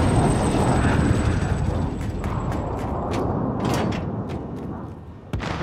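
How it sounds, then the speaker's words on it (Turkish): An in-game helicopter arrives in Call of Duty: Modern Warfare, a steady broadband rotor-and-engine drone holding at a constant level, with scattered sharp clicks and mechanical knocks over it. "helikopteri çağırdım ben."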